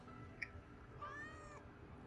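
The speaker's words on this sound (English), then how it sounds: "Good kitty." Cat meowing in the video game Final Fantasy 7 Remake, a faint short chirp followed by a longer, clear, drawn-out meow over a quiet background, no speech.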